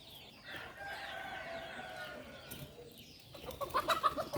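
Chickens clucking on a mixed farm with ducks, laying hens and fish ponds: faint, sporadic clucks over quiet outdoor ambience, growing busier toward the end.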